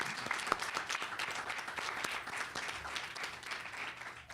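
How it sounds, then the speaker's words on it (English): A crowd applauds a pilgrimage group marking the Selma march anniversary, a steady wash of many hands clapping at moderate distance and holding even through the whole stretch, with faint voices underneath. "Give yourselves a big round of applause."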